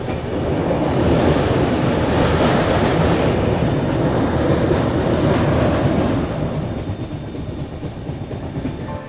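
A passenger train runs along a scenic rail route in Odisha, India, in the rain. The rolling rumble and rattle stay loud and steady throughout, then ease off slightly toward the end.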